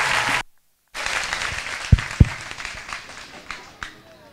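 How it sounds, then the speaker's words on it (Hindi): A crowd at a Holi celebration at Dev Sanskriti Vishwa Vidyalaya in Haridwar breaks into applause after a short silence, dense clapping with a couple of sharp thumps, gradually thinning out toward the end. "जोरदार तालियों से स्वागत करें"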